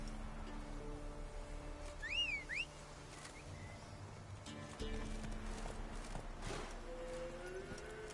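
Horse hooves clip-clop in The Witcher 3 as a mount trots along in a steady rhythm, mixed with game music and ambience and a brief whistle partway through.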